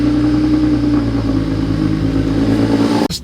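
A BMW 335i that has sat abandoned for nine months runs with a loud, steady engine drone close by, ending in a sudden sharp knock or clunk.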